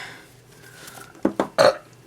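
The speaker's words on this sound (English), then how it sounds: "I'll let that burp out too." A man gives a short series of three close, loud burps, the last one longest and deepest, after a quiet stretch with no talk.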